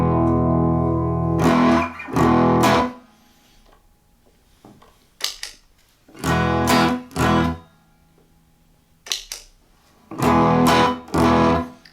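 Growling, overdriven electric guitar through a DIY Klon clone pedal, played as repeated pairs of short, punchy chord stabs separated by near-silent pauses, loud and up front.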